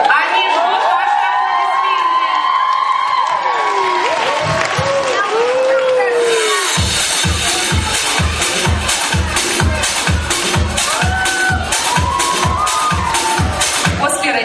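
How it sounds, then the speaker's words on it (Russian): Children's talent festival audience at a summer camp session, with cheering and shouting over mixed voices, then steady rhythmic clapping in time from about seven seconds, loud and close throughout. "аплодисменты"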